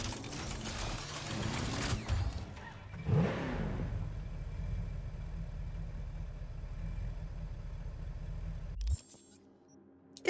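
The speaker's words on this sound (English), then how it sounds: "This is a really noisy car" Noisy car engine in a video game, a rough low rumble with a sharp rev early on, then a steady drone that cuts off abruptly near the end.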